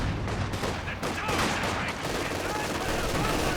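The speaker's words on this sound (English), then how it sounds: "Grenades getting launched." Grenades launch and burst in a Company of Heroes 2 match amid dense, continuous gunfire and explosions, loud and chaotic throughout with no clear pauses.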